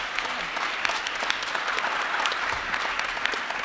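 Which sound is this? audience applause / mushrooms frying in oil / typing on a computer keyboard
audience applause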